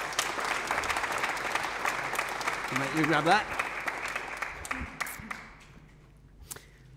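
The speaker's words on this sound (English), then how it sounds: "Let's give Simeon a round of applause." A conference audience applauds as a guest is welcomed on stage, steady clapping that thins and fades out near the end, with a brief spoken voice and a squeak in the middle.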